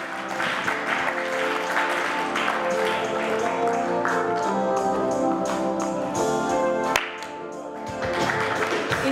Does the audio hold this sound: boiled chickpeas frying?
no